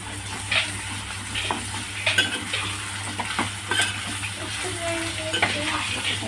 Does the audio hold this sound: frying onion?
yes